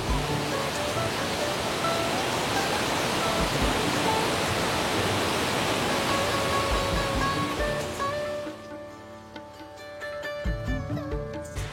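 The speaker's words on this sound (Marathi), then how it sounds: "किती प्रवाह आहे बघा या धबधब्याला. मस्त वाहतोय हा धबधबा." A mountain waterfall pours down from the hillside in a steady, full roar that fills the first eight seconds, then thins out, leaving quieter, scattered sounds.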